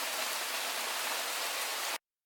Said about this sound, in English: It's raining heavily.